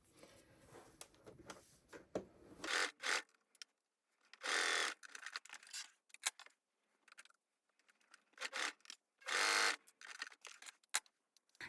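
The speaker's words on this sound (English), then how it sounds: "Baste the side seam and the top seam pocket piece in place." A sewing machine bastes the side seam and top pocket seam of stretchy shorts in short whirring bursts, about four quick runs separated by pauses with small handling clicks, close and fairly quiet.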